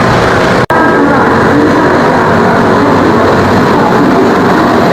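A Bangkok metro train on the Yellow Line pulls in, its steady broadband rumble and rolling noise filling the platform continuously, close and fairly loud, with a brief dropout early on and no talk.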